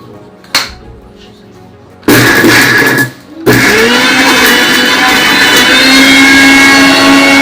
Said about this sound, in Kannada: ಈಗ ನುಣ್ಣಗೆ ಪೇಸ್ಟ್ ರುಬ್ಬಿವಿ.